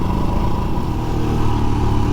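Steady, close engine note from a Royal Enfield Himalayan 411 motorcycle revving, a rough, thumping drone that holds at a fairly even level without climbing sharply.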